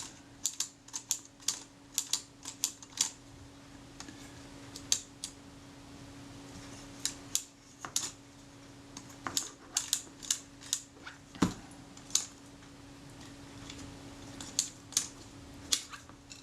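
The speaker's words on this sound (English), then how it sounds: "I can see that you can roll the spool back okay." Small clicks and ratchety ticks come in irregular bursts from a Retina camera as its film spool is rolled back, close and quiet, with a faint steady hum underneath and no talking.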